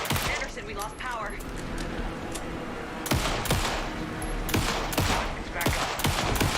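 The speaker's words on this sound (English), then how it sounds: "Anderson, pin him down with gunfire for me to get the light on him." Rapid gunfire rattles out in the video game Alan Wake 2, dense bursts of loud shots cracking repeatedly through the scene, with game voices under the shooting.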